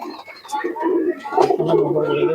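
Kasuri pigeons cooing close by in soft, throaty rolling coos that run continuously, mixed with faint chirps and other bird murmurs at a pigeon sale.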